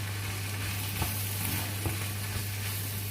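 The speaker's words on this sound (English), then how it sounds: "Give it a stir." Honey chicken curry sizzles in a pan in a steady, close frying hiss, with a low constant hum underneath and a few soft stirring knocks of the utensil.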